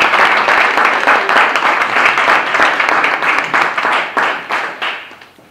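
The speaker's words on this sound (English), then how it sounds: "Please clap for him, clap for him" An audience claps for a young man at a student gathering, loud dense applause that thins toward the end into a few separate, slower claps.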